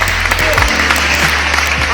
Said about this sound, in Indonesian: Tepuk tangan dong ya.